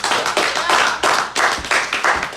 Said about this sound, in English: Let's give a round of applause for the House of Ladies.